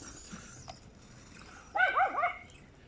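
A dog at home gives a short burst of barks and whimpering yips, moderately near, after a quiet stretch with faint background noise.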